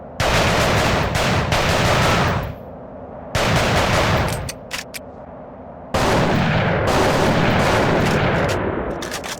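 Rapid pistol fire in The Thing: Remastered comes in dense bursts of shots fired as fast as the trigger is pulled, loud and close, broken by brief pauses with scattered single shots and faint clicks.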